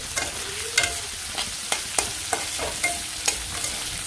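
Raw rice and onions fry in a pan, giving a steady sizzle punctuated by regular sharp scrapes and knocks of a stirring utensil, close and fairly quiet with no talking.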